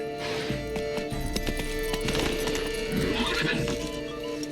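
A horse neighs and whinnies while its hooves clip-clop steadily in a large garden in The Witcher 3, the whinny rising over the hoofbeats, close and clear.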